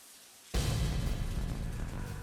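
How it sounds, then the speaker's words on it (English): A steady broadband hiss of running water starts abruptly and continues evenly, a shower turned on nearby in the video game Deadly Premonition. "It's the shower."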